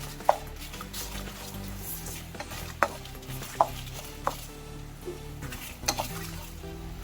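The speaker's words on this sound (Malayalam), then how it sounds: "മുളക് നന്നായിട്ട് വറുത്തെടുത്തിട്ടുണ്ട്" Red chilies dry-roast in a pan for homemade sambar powder, with soft sizzling under a scattering of sharp scrapes and clicks from stirring against the metal.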